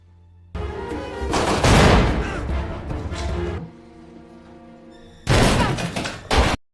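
Gunfire during a shootout between two rival sides in a film, with a loud, dense burst of shots lasting several seconds, a brief lull, then another sharp, heavy volley near the end.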